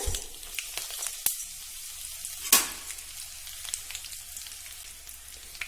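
Mustard seeds and dried red chillies sizzling in hot oil for a snake gourd stir-fry, a low steady frying hiss broken by a few sharp seed pops, close and quiet, with no talking.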